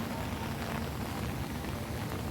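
Heavy rain falls outdoors near Nan Lian Garden in Diamond Hill, Hong Kong, a dense, even hiss of downpour that stays loud and unbroken with no voices over it.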